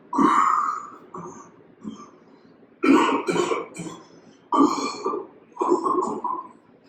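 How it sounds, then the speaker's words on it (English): Repeated hacking coughs from a drunk man in a damp cellar, several harsh bursts in clusters with short pauses, close and loud, with no speech. "How long have you had that cough?"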